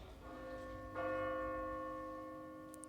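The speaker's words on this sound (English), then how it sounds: "But the bell only chimed once." A single deep church bell strikes once and rings on, its tone lingering and slowly fading in a quiet setting.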